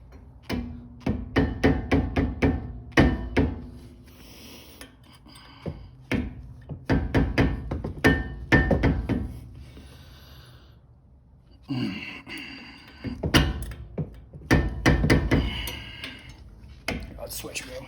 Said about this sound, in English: You want to hammer all the way through.